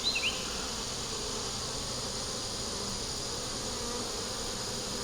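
An insect, apparently a bee caught in a beetle trap, hums in a steady, continuous drone close by, with a few brief louder bumps at the very start and no talking.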